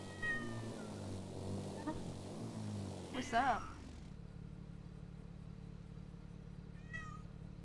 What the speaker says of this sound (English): Wolfie, what are you meowing at?